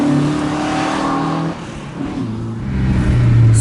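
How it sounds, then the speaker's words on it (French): A BMW 2002 with a tuned engine and modified carburettors revs hard nearby, the engine note climbing, briefly easing off, then rising again loudly as the car pulls away, with no talk. "Ce moteur qui est omniprésent, les carbus qui gueulent"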